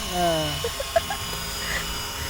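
A radio-controlled scale AS350 model helicopter flies slowly and gently, giving a steady electric motor and rotor buzz that runs continuously throughout at moderate level.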